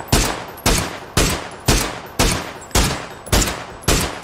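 Gunfire in a shooting video game: eight loud, sharp shots at a steady pace about half a second apart, each with a short decaying tail, and no voices.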